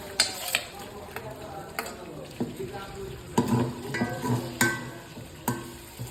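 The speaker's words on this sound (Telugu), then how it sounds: "అల్లం పేస్ట్ వేసిన తర్వాత ఉల్లిగడ్డలు వేసేద్దాం అట్లా" Ginger paste and chopped onions fry in a pan, with scattered stirring clatter and soft sizzling over a steady background hiss, close by.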